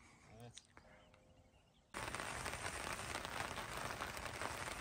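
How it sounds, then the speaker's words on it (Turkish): At a campsite, after a quiet start with faint sounds, steady dense rain hiss abruptly fills the scene and continues evenly. "Yine yağmur başladı"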